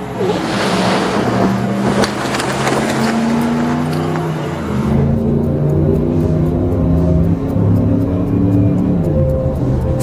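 A car drives at speed, its engine note climbing and shifting through repeated rising tones, loud and close, with a harsh noisy wash over the first half.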